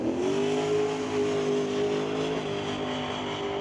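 A drag race car accelerates hard down the strip, a loud, steady engine roar with a rising then levelling whine that holds close and strong throughout.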